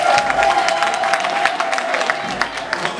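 Wedding guests clap in a dense burst of applause, loud and close, with a sustained tone and crowd voices mixed underneath for about three seconds.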